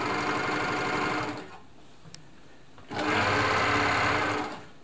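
An Elna Air Electronic TSP sewing machine stitching along a seam in reverse, two loud steady runs of rapid mechanical whirring separated by a short pause with a faint click.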